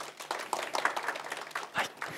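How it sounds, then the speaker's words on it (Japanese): Brief scattered clapping from a small group of participants at a community meeting on school lunch policy, a short round of hand claps with faint voices. "拍手"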